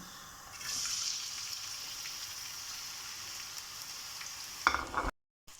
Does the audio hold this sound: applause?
no